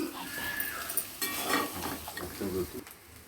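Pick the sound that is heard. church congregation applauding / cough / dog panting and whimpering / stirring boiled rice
stirring boiled rice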